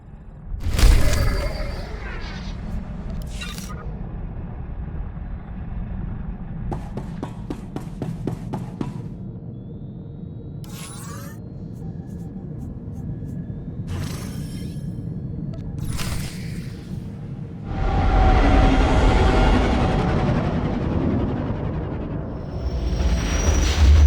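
Spaceship launch in Star Wars: The Old Republic video game: scattered mechanical clicks and whooshing bursts build into a loud, swelling engine roar near the end, with occasional game voices.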